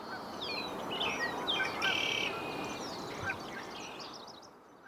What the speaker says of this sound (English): I happened to see a male in this stage of plumage making territory calls while foraging on the ground.